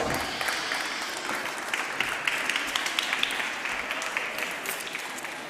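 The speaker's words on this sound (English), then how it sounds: "Big applause for her." Audience applause greets a chess grandmaster on stage at a chess festival event, sustained dense clapping at steady moderate volume with sharper individual claps rising out of the wash.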